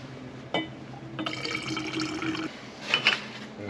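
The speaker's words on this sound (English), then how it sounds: "taking it out of the vinegar solution." A lab sample is lifted out of a vinegar acid bath, giving brief watery splashes and drips with a small sloshing burst near the end, close and fairly quiet.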